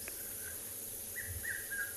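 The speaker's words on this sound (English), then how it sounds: "red-chested cuckoo calling in the background." Red-chested cuckoo calling in the distance during a sunset safari in the African bush, a few faint, short whistled notes repeating over a steady background of insects and birds.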